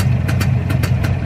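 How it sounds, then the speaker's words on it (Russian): A Jawa 360 motorcycle engine idles steadily close by, a loud low throbbing hum with rhythmic exhaust pulses repeating about every half second, with no voices. "Еще один мотоцикл на наших дорогах."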